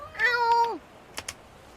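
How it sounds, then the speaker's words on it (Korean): A cat in the pixel-art game A Space for the Unbound gives one clear, close meow with a falling tail, followed by two quick soft taps like keyboard clicks. "만약 길을 잃어버려도 내 고양이 보스키가 길을 알려줄 거야"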